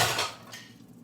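A plate being picked up in a home kitchen while lamb kofte is cooked in an air fryer gives off a short ceramic clatter and clink at the start, then trails off into quiet room tone.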